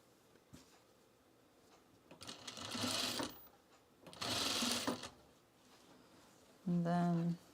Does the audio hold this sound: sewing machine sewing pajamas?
yes